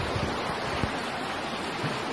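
Flooded river rushing past a cemetery in Los Planes, Colón, a constant loud roar of churning water with gusty wind buffeting the microphone and no voices.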